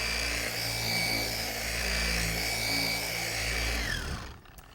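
An electric polisher on a medium setting works wax into car paint, giving a steady, fairly loud motor whine and hum that holds for about four seconds, then cuts off abruptly.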